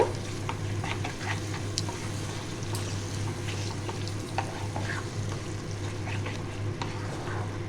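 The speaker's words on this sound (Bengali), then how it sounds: "টক দইটা ভালো করে আমি কষিয়ে নেব" Sour yogurt being stir-fried in a pan over a low gas flame, giving a steady, close sizzle with soft scraping stirs throughout, no voices.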